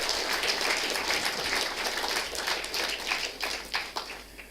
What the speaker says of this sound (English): So please, a round of applause to people who are not here as well.